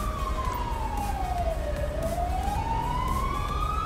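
Ambulance siren in GTA 5, a single slow wail sweeping down then back up, loud and continuous over rumbling traffic noise.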